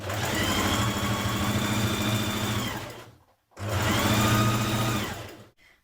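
A sewing machine runs a dress seam in two long, steady, high-pitched bursts with a short pause between them, close and loud with no talking.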